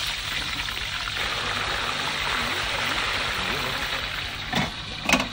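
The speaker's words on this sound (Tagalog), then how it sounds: "Okay na itong ating macaroni. Yan, drain na natin." Water from cooked macaroni drains in a steady, rushing pour outdoors, with a brief clatter near the end.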